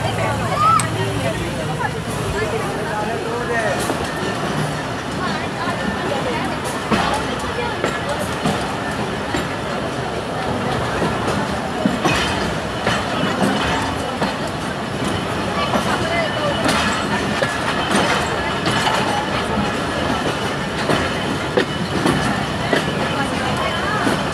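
A train runs along the rail line after leaving Wazirabad, giving a continuous rumbling cab-side drone with rhythmic rail clatter, while people talk over it throughout.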